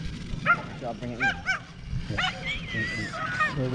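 An excited dog barks in quick bursts while an 8S Arrma Outcast RC car runs, loud close yips and barks mixed with people talking.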